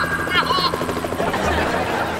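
A helicopter's rotor thumps steadily throughout a chase scene in a kids' TV comedy. People talk briefly over the constant throbbing drone.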